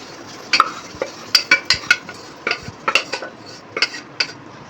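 Boiled lentils for a sour dal with neem leaves, eggplant and mango going into the pan and stirred, a ladle striking the metal pan in a string of sharp, evenly spaced clinks over a quiet background.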